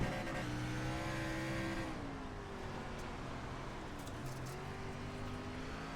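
Race car engine in a racing video game, droning steadily at high revs then dropping pitch around a gear change and carrying on under load, loud and continuous with no talking.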